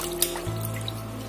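A brief trickle of water poured into a pot of mutton head gravy, a soft liquid splash heard up close.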